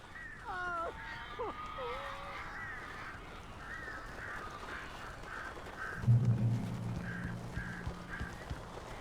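Crows cawing in the video game Alan Wake, a few harsh calls early on that become a repeated rhythmic series, moderately loud, followed by a low rumbling thud and ongoing background sound.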